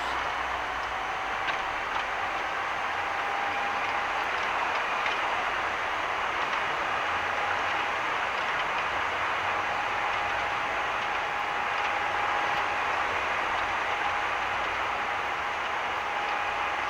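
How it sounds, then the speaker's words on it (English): An Airbus A220-200 in a flight simulator game applies reverse thrust, giving a loud, steady, even roar of engine noise that holds for the whole stretch with no talking. "Reverse thrust."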